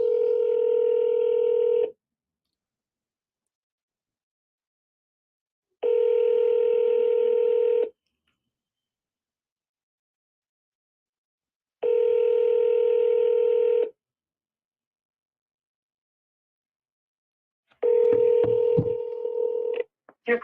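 Outgoing telephone call ringing, four evenly spaced ringback tones each about two seconds long with roughly four-second gaps, clear and close, the last one cut by a brief crackle.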